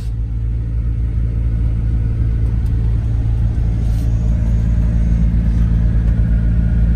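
A Chevy Silverado truck with a 5.3 Vortec V8 idles steadily, a loud continuous low rumble close by with no notable revving.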